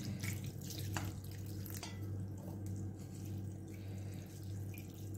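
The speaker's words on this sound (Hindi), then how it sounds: "इसी तरह से आपको वॉश करने जिससे ये ज़्यादा पानी में भी डिप नहीं रहेंगे" Flattened rice (poha) is rinsed in water, giving faint, steady dripping and sloshing, with a few soft splashes and drips under a low background hum and no talk.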